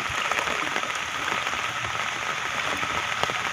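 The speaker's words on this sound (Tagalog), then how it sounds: "malakas na naman ulan mga kaibigan" Heavy rain pours steadily onto surfaces, a dense hiss of drops with scattered sharper splashes, constant and enveloping with no voices.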